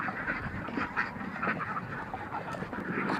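A large flock of about 1,100 ducks quacks after feeding, a dense and continuous chorus of overlapping calls that sounds close and loud and fills the whole stretch.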